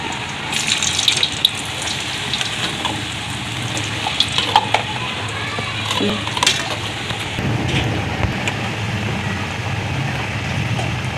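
Potato chips for finger fries dropped into hot oil in a wok give a dense, continuous hiss and bubbling sizzle, steady and close throughout with occasional crackles.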